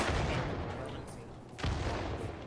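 Mortar fire in the Arma 3 military game thuds faintly and distantly in a muffled rumble, with one sharper boom standing out partway through the short stretch.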